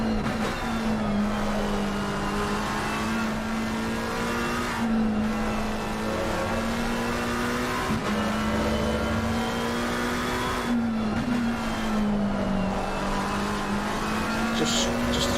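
Race car engine in a sim racing game at Spa, holding a steady loud drone with pitch dips and rises as the throttle lifts and reapplies, under commentary voices.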